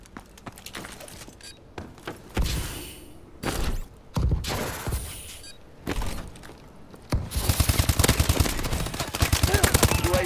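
Gunfire in the Call of Duty Advanced Warfare video game during a search-and-destroy match: scattered loud shots and bursts early on, then a sustained rapid automatic burst over the final seconds.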